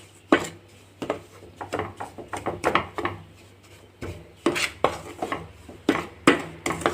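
Rice flour for pithaguri halwa is stirred in a pan with repeated scraping and clinking strokes of a spatula against metal, close and uneven in rhythm, without talk.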